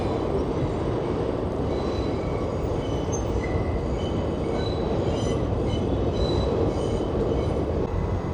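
A subway train rumbles steadily with a broad roar, faint metallic squeals and whines rising above it, heard up close and continuous.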